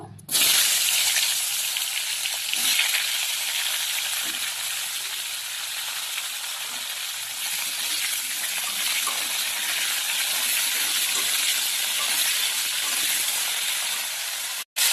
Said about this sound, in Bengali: এবার আমি মাছ ভাজা তেলেই আমি ফুলকপি আর আলু ভেজে নেব।